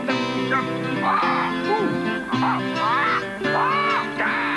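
A bird squawks and quacks loudly indoors in repeated harsh calls over a steady background tone, close to the microphone and mixed with bits of commotion.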